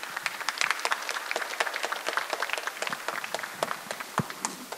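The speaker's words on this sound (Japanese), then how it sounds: "皆さん拍手でお迎えいただければと思います。" An audience claps to welcome a lecturer onto the stage at a talk on the search for life in space; the clapping is moderately close, with distinct sharp hand claps, heard alone.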